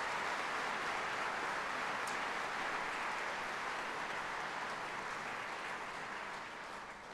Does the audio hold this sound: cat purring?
no